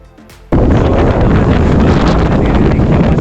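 Strong wind at Wellington's urban forest roars against the microphone in a sudden loud, rumbling gust that starts abruptly and stays constant and buffeting to the end.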